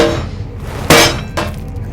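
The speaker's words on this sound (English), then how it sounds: "Oh, actually, I can use the hammer." A hammer smashes something in the horror game Penumbra: Overture, giving two sharp, bright crashing blows about half a second apart, the first louder, over a low background hum.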